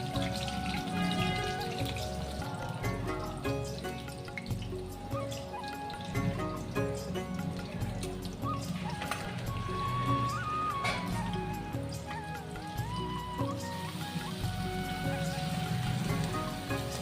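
Chopped aloe vera goes into hot oil already seasoned with cumin and green chilli, giving a continuous, fairly soft sizzle and crackle that runs on without a break or any voice over it.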